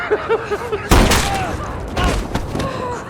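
A gunshot in a sniper movie scene: one loud, sharp blast with a rolling boom, then a second heavier impact a moment later, while a voice talks over the scene.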